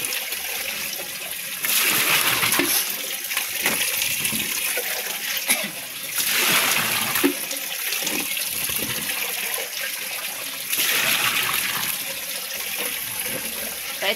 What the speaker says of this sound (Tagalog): nag-awas-awas ang tubig